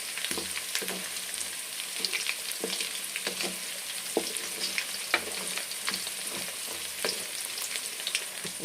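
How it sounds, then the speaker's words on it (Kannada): Food frying in a pan at the side of the stove on an early morning, steady close hiss with frequent light clicks and scrapes of stirring, no voices. "ಸ್ವಲ್ಪ ಸೈಡಲ್ಲೇ ಫ್ರೈ ಮಾಡ್ತಾ ಇದ್ದೀನಿ"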